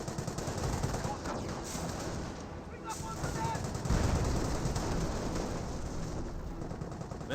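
A quad machine gun in Company of Heroes fires away in a dense, continuous rattle of automatic fire amid battle noise and scattered explosions, loud and unbroken throughout.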